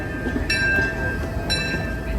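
A Disneyland train arriving at the platform, with a low steady rumble and rolling noise, two brief bright tonal blasts like a whistle or bell about a second apart, and high metallic ringing, no talk.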